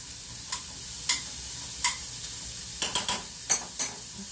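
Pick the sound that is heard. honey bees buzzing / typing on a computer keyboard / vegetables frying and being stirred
vegetables frying and being stirred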